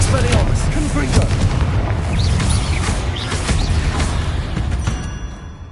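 Repeated Confringo fire-spell blasts in the game Hogwarts Legacy, loud booming bursts in quick succession with crackling debris, dense combat noise throughout and a voice casting spells over it.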